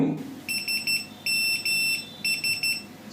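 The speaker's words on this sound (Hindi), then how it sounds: "जो सेकंड वाली आपने ट्यून सुनी थी वो नोकिया की बेसिकली मैसेज ट्यून थी" Nokia message tune played as Morse code: three short groups of high, crisp electronic beeps in a dot-dash rhythm, clear above a soft background hiss.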